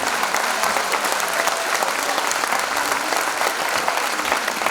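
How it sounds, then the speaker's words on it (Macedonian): An audience at a nurses' ceremony applauding, a dense, steady roar of many hands clapping that stays loud and even throughout without a break. "А сега ве мала голем аплауз за сите наши хумани најуспешни сестри"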